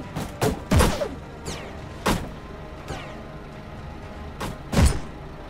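Gunfire from a battle in the Steamcraft video game, with aircraft and vehicles fighting. Several sharp, booming shots crack out at irregular intervals, some close and heavy, others lighter and farther off.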